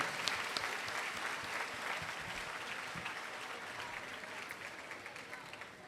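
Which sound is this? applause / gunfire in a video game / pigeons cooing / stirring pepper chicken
applause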